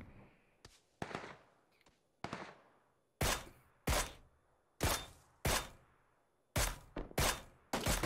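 Sharp, loud gunshots ring out in PUBG, a dozen or so cracks spaced irregularly, several in quick pairs near the end, each with a short decaying tail over faint background noise.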